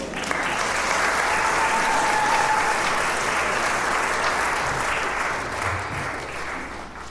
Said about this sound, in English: Round of applause for our stagehands today.